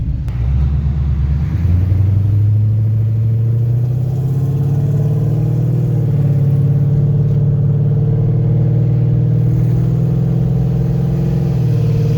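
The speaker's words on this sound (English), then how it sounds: "Now I'm gonna do the same thing leaving a light, and you'll hear how much higher the RPMs are when the shifter position is in drive." A Coyote-swapped Ford Fairmont with a 6R80 automatic pulls away from a light, its engine droning low and steady with a rising rev under a constant, close rumble and no talk.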